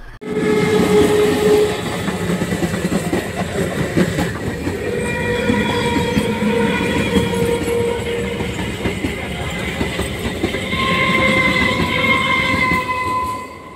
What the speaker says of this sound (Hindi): और ये है स्ट्रीम इंजन देखो रेड कलर स्ट्रीम इंजन चलो चलो